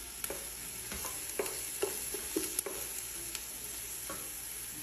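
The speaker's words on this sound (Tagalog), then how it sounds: "Kailangan lutuin natin yung sibuyas para yung amoy niya," Onions fry in a pan with a steady, soft sizzle while a utensil stirs them, giving a run of light scraping taps at a fairly regular pace, close but quiet.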